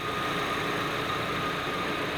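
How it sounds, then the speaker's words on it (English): A car engine idles in park, a steady, close, even rumble that holds without change throughout, with no talk over it. "We start it up with the engine in park"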